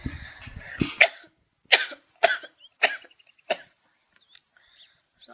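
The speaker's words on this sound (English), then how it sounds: "Sorry, bit coughing there." A person coughs several times in a row, sharp harsh bursts spaced about half a second apart, close to the microphone in an otherwise quiet room.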